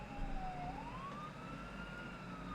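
A video game siren wails steadily, its tone sliding down then rising again, heard at a moderate distance over a low rumbling background with no voices.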